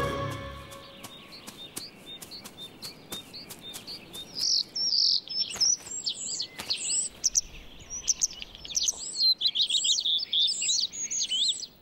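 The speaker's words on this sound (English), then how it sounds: "The starling sets up a strident call for a partner." A starling in an orchard gives strident, chattering calls for a partner, rising into a busy run of squeaks and whistles after a series of sharp clicks, fairly close and alone.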